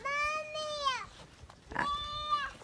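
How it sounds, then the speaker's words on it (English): Pigs loose from their pen on a rainy farm give high, drawn-out squealing calls, two long wavering cries separated by a brief pause, heard close and clear. "Oh, the pigs are out."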